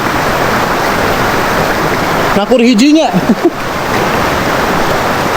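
A flooded, swollen river rushes in a steady broadband roar during the rainy season, with a short burst of speech cutting across the middle of the clip.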